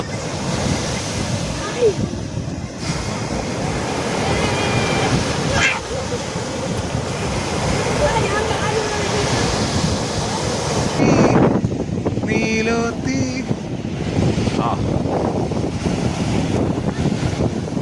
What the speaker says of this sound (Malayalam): നല്ല തെളിഞ്ഞ ആലപ്പുഴ കടൽ